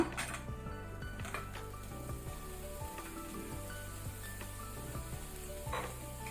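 Paneer shallow-fries in melted butter in a pan over a low-to-medium flame, giving a continuous close crackling sizzle with a few brief spatters and utensil touches.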